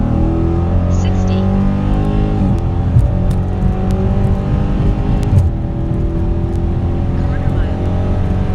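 A Dodge Scat Pack Challenger or Scat Pack Charger Widebody accelerates hard from 60 to 130 mph. The loud, continuous engine roar climbs steadily in pitch, with brief breaks at gear changes, heard from inside the car.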